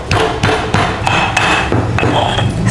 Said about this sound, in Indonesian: Kencurnya akan kita tumbuk sampai halus.